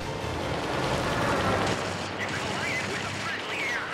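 Rapid aircraft gunfire with incendiary rounds rattles in dense, continuous bursts over engine roar in the World of Warplanes game, loud and close throughout.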